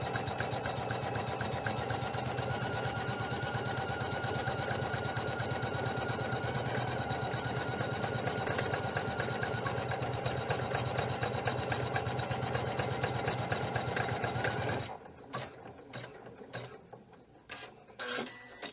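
Janome 500E embroidery machine running a tack-down stitch, a loud, steady mechanical whir and rapid needle clatter up close that stops abruptly near the end, leaving faint handling noises.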